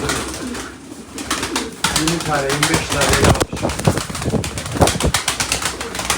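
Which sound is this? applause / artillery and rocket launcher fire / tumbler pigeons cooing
tumbler pigeons cooing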